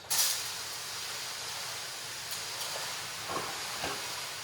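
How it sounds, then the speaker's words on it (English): A few short, soft hisses of cleaning solution sprayed onto a car door panel come in bursts over a faint steady background, close and quiet. "I'm just going to spray it on the panel"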